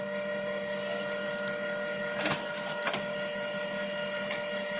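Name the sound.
printer printing an order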